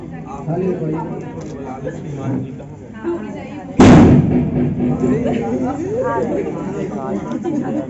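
A single loud firecracker bang cuts sharply through chatter at a Bhagavat Katha religious gathering, followed by a lingering rumble as voices continue nearby.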